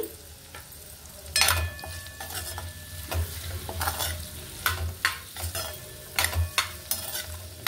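Amla pieces frying in a pan with a steady sizzle, broken by repeated scraping stirs and spoon clinks against the pan, close and fairly loud.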